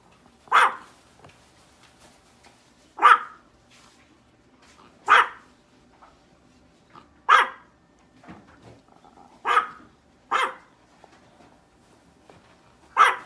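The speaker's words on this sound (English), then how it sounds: "my dog's barking at me" A dog barks sharply and close by, in single barks spaced a few seconds apart, with quiet gaps between them.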